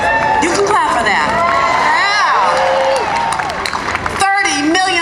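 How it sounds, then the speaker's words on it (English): A rally crowd at an anti-Trump rally in New York City erupts in loud, sustained cheering, whoops and shouts with some clapping. Many voices overlap continuously, and the noise stays close and dense throughout. "You can clap for that."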